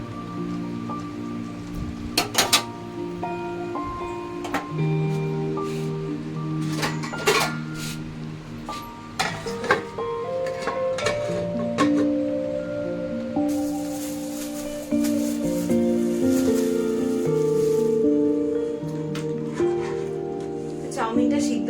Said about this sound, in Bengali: চাউমিনটা সিদ্ধ করা বসিয়ে দিয়েছি